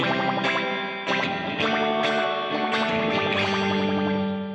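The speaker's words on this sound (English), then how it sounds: "if you turn up the reverb past about 9 o'clock, you're going to get that boing sound." Electric guitar playing repeated chords through a Donner reverb pedal on its spring setting, with a splashy, twangy spring reverb that adds a bouncy, metallic boing-like echo to each strum.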